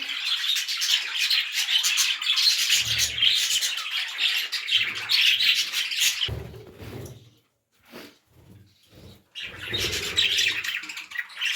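Budgerigars chirp and tweet continuously in a dense, busy chatter, with a few brief quieter pauses and some low handling noise.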